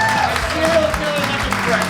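Audience applause at a comedy show, a steady wash of clapping under a voice speaking over it.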